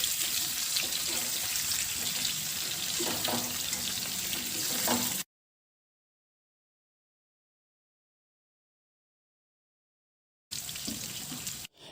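Stuffed eggplant (baingan) fries in masala gravy in a lidded pan with a steady, close sizzle. The sound cuts out completely for several seconds in the middle, then the sizzling returns briefly.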